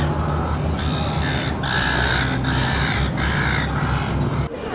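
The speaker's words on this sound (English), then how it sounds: "The seagulls have chased Byron away." Seagulls at a shore call in a run of harsh, repeated squawks, several birds close and fairly loud over steady outdoor background noise.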